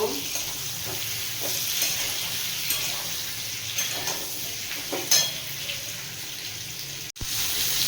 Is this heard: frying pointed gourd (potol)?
yes